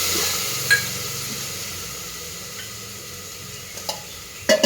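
A vegetable kurma masala with milk and curd fries in a pan with a soft, steady sizzle, broken by a few sharp clinks of a utensil against the pan, the last ones bunched together at the end.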